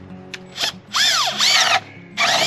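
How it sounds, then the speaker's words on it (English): A power drill with a 7/8-inch spade bit whirs in short bursts, spinning up and biting into wood three times with brief pauses between. "I'm going to drill a 7/8 inch hole"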